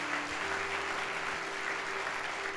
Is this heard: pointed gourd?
no